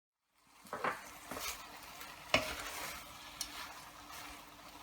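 Beef stir-fried with hot chilli sauce and soy sauce in a pan over high heat, a continuous sizzle with a few spatula scrapes and clinks against the pan.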